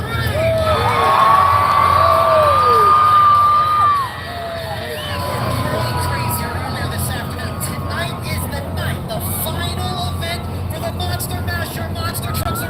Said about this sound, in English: On the count of 3, I'm going to hear you scream.